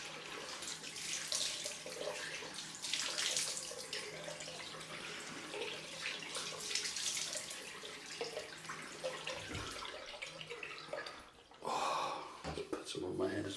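Cold tap water runs into a sink for a post-shave rinse, a steady close splashing flow with a brief break near the end, while someone talks over it.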